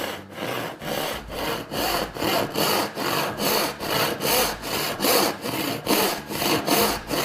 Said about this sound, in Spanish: Tener un buen inicio a la hora de hacer un corte con un serrucho es garantía de éxito para el resto del trabajo